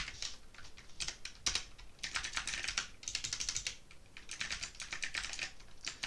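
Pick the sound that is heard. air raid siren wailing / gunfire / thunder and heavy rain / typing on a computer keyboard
typing on a computer keyboard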